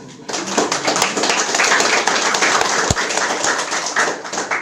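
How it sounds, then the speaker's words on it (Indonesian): An audience at an Indonesian school event on democracy and leadership breaks into clapping, a dense, fairly loud spread of many hands that starts abruptly and holds steady throughout, with a single sharp knock near the middle. "ya tepuk tangan."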